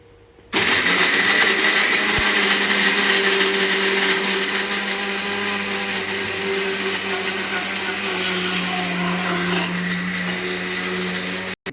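A mixer grinder grinding spice paste with poppy seeds for mutton sambar, starting abruptly and running as a loud, steady motor whine and whir for about eleven seconds before cutting off.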